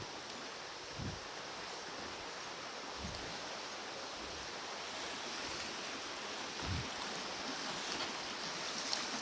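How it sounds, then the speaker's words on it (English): A river near Tata Bifuri station flows during rain, heard as a steady, broad rushing hiss that stays even throughout, with a few soft low thumps from wind or handling and no voices. "So this is the river and everything here."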